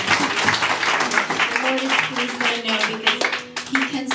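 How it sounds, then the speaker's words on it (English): A church congregation at a women's worship night claps together, with irregular hand claps mixed with voices talking over them. "Give the Lord a big clap."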